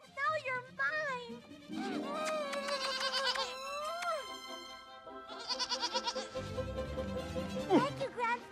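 A goat bleats several times in a cartoon musical scene, the calls mixed among children's voices and music, fairly loud and close.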